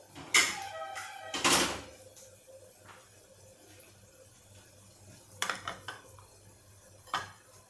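A metal spoon clinks and scrapes against a cooking pot and plate while serving cooked stuffed ridge gourd vegetable curry. Two sharp bursts of clatter come early, then softer scattered taps and a final clink, with quiet pauses between.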